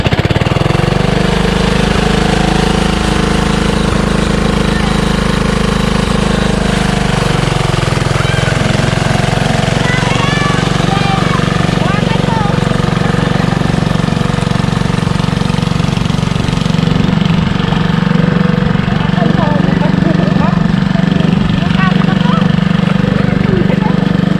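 A kuliglig hand tractor engine chugs loudly and continuously close by, its pitch rising as the throttle opens and it revs faster; the thumping, knocking rhythm runs throughout with faint voices underneath.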